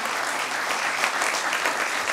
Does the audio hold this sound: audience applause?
yes